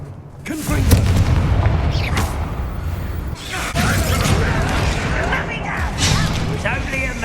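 Confringo explosion spell in the video game Hogwarts Legacy bursts with deep, loud booms and rumbling crackle, repeated blasts layered over continuous battle noise.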